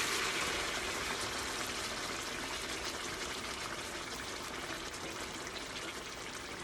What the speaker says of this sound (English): we're going to take this marinara sauce now, and we're going to pour it over our meatballs